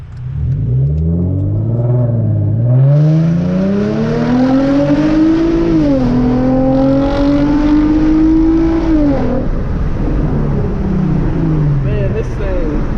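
A Genesis Coupe fitted with a throttle controller pulls hard through a gear, engine note climbing loudly from inside the cabin, dipping at a shift and rising again before easing off.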